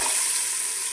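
Onions frying in a pan as the base for a Mangalorean tuna fish curry, a loud, steady hiss of sizzling oil held close and continuous with no voices.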